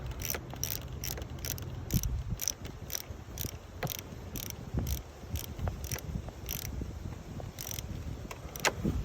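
A wrench tightening a car battery terminal during a battery installation, with faint quick metallic ratcheting clicks in irregular bursts, close up and quiet, and no talk.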